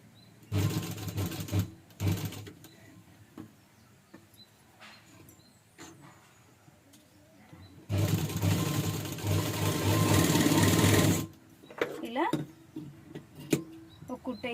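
A sewing machine stitches piping with a double presser foot in two close, loud mechanical runs, one brief and one several seconds long, separated by handling noise, while someone talks in between.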